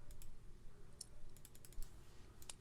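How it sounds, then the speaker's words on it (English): Typing on a computer keyboard, soft quick clicks in small scattered clusters, faint and close over a low background hum. "And so if I type in 3M N95,"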